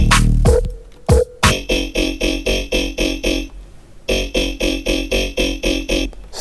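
A dry, unprocessed synth bass with no EQ pulses in a fast, even rhythm of loud, buzzy, harmonically rich hits, briefly pausing before the repeating pattern resumes.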